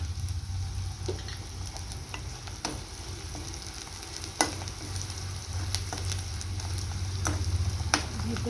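Curry leaves and coriander sautéing in hot oil, a continuous close crackling sizzle with occasional sharp spatula taps against the pan, steady and fairly quiet throughout.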